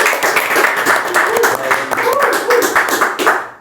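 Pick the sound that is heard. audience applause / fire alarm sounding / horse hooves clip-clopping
audience applause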